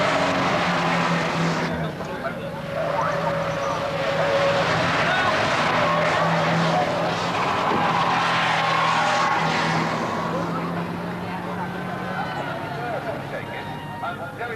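Race cars at the 1981 Dubai Grand Prix cut across sand on the track, engines droning and skidding nearby over a continuous roar, with a commentator talking throughout.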